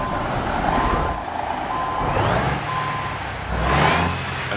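MAZ prototype truck in Euro Truck Simulator 2, a steady engine rumble under repeated reversing beeps, with the beeps recurring through the clip and the engine swelling near the end.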